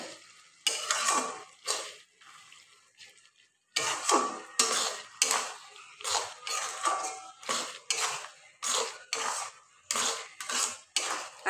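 A utensil stirs and scrapes chicken curry gravy, coloured with Kashmiri chilli powder, around a metal pan in repeated close, loud strokes with brief pauses between them.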